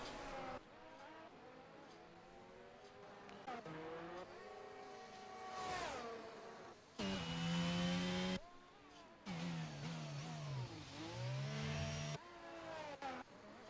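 Race cars at the Miami Grand Prix in a racing video game, with engines rising and falling through gear changes, loud high-pitched revving passes and swooping pitch shifts across the whole stretch.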